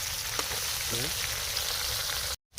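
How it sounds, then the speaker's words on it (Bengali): Onions frying in a pan for a village-style chicken curry, a steady close sizzle with a brief sound fragment partway through, cutting to silence near the end. "পেঁয়াজগুলো ভেজে নেব"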